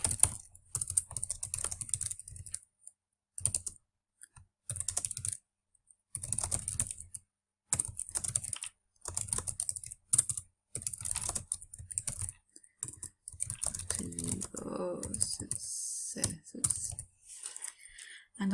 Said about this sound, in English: So I'm just going to type that in here.